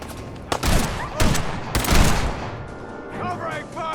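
Sharp bursts of gunfire from Fallout 4 sound in three loud volleys spaced about a second apart, then thin out into a scattered tail as a voice comes in.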